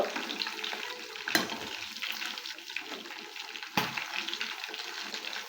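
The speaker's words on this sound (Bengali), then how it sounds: "এখন আমি আমার চিকেনগুলো উল্টে নিব" Chicken pieces frying in hot oil for restaurant-style chili chicken, a continuous moderate sizzle broken by two sharp knocks as the pieces are flipped.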